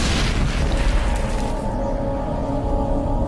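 A grenade goes off in the Mass Effect Legendary Edition game, a loud, deep explosive boom at the start that rolls into a sustained low rumble and fades over a few seconds, with no talking.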